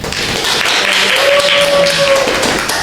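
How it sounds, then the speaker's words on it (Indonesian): Students in a Japanese-language micro-teaching class at an Indonesian university clap for a classmate, a short, even rattle of many hands close by, with faint voices under it. "Hai, sekai tepuk tangan untuk Habi-san."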